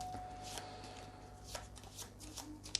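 Playing cards handled and flipped over at a tabletop game session: soft, close shuffling and light papery taps and flicks, quiet and intermittent, with a sharper snap near the end.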